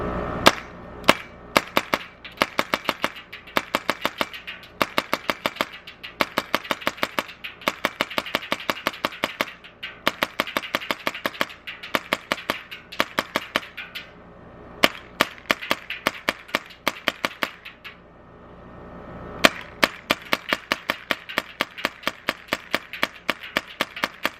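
A .50 caliber rifle fires at a burn barrel in rapid strings of sharp, close shots with short pauses between bursts, repeated steadily throughout with no talking.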